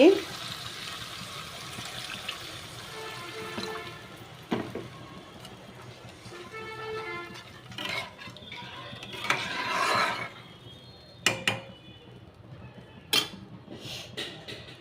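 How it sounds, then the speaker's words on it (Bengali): Water runs and splashes into a pan of pabda fish curry in fits and starts, with clinks of utensils and pauses between pours. "এবার জল দিয়ে দিচ্ছি"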